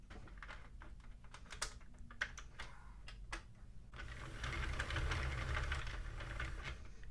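A Sentro or Addi plastic circular knitting machine is cranked to knit a flat panel for a summer cardigan, giving a steady run of clicking, clattering mechanical ticks that start as sparse taps and become a denser, louder rattle in the second half.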